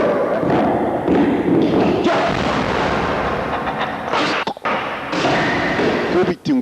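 Heavy thudding impacts boom one after another, loud and close, with speech running underneath.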